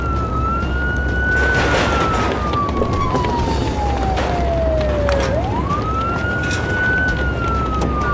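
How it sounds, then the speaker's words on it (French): An animated fire truck siren wails loud and steady, sweeping slowly down in pitch and then rising again over a constant rumble of engine noise. "Cool, regardez, il y a plein de voitures de pompiers."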